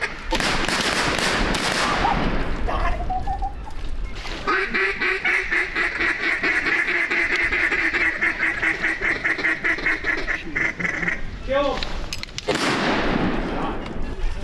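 Ducks quack loudly and repeatedly during an outdoor duck hunt, a long unbroken run of harsh calls close to the listener, with voices and a sharp bang at moments.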